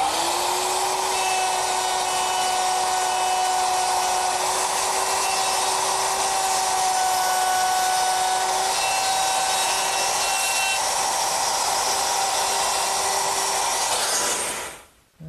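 A router fitted with a guide collar whines loudly and steadily as it cuts a hinge mortise in wood, a sustained high-pitched motor tone that runs without a break before it cuts off abruptly.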